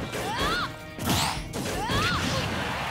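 An up smash attack landing as a finishing blow in Super Smash Bros Ultimate: two loud crashing impact bursts with swishing sweeps, about half a second apart, over busy game sounds.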